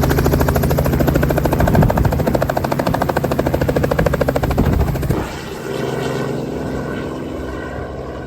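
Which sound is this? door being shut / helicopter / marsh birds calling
helicopter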